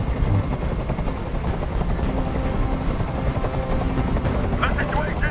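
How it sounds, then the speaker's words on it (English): Helicopter hovering in the video game Detroit: Become Human, a loud steady rotor thrum filling the scene with dense low rumble while in-game voices speak over it. "I can't stand that noise anymore! Tell that helicopter to get out of here!"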